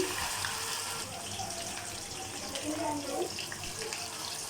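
Chicken pieces frying in oil in a home kitchen, a steady, dense hiss of bubbling oil that stays even throughout with no voices.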